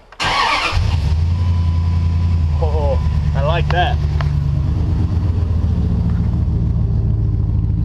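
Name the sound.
pickup truck engine with glasspack exhaust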